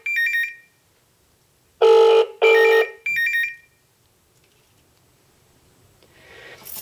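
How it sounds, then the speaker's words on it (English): An Advent Controls GSM door entry intercom call rings through on a phone at a very loud volume setting: several short, bright electronic ring bursts in quick sets, then a near-silent pause and a faint rustle. "Now we're going to let this ring out until it calls the second number, which we're going to answer."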